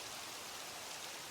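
Steady rain falling in the video game Minecraft, a faint, even hiss of drops that holds constant throughout with no other sounds.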